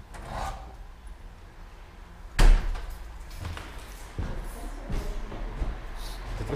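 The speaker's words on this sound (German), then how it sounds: "Tür zu." A door in a house under renovation being shut, with one loud close thud partway through, then softer knocks, shuffling and rubbing sounds nearby, and a faint voice in the background.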